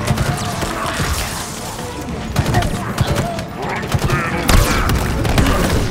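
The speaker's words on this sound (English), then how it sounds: "Oh, grenades! Grenades everywhere!" In Halo Infinite's campaign on Legendary difficulty, grenades blast over and over amid dense gunfire, a loud, chaotic barrage of booms and shots that never lets up.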